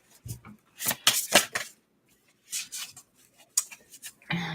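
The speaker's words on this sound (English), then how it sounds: "we're going to have one more shuffle" Tarot cards being shuffled by hand, a few short papery riffles and slaps in separate bursts with quiet gaps between them, close and clear.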